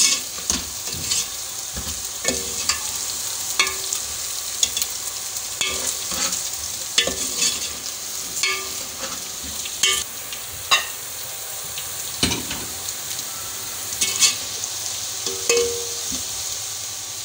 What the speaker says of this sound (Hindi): अदरक लहसुन भी नाल अच्छी तरह भुन चुके हैं।